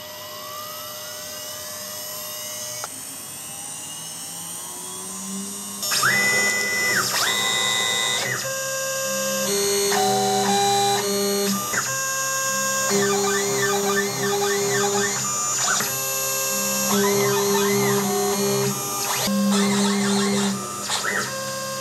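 An Advercut K6100A CNC router cutting acrylic, starting with quiet mechanical hum, then loud shifting whines and stepped motor tones as the gantry moves in bursts, with pitched sweeps and brief pauses between passes.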